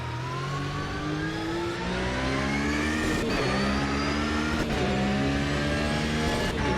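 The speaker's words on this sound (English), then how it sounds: "Car sounds good." A race car engine on the Nürburgring GP track accelerates in a loud, steady drone. Its pitch climbs repeatedly and drops at each gear change, about three shifts, with no voices over it.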